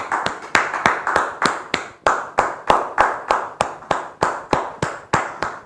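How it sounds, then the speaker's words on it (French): An audience claps in steady, dense applause to welcome a guest sister at a French-speaking church gathering, loud and close, with sharp repeated hand claps in a brisk rhythm throughout and no talking. "Des ovations bien nourries pour recevoir notre sœur."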